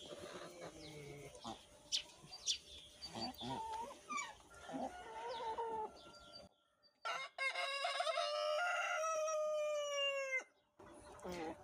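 A rooster crows loudly among clucking chickens, with one long drawn-out crow rising and holding before breaking off, preceded by busy, overlapping hen clucks and calls, all nearby in a farmyard setting.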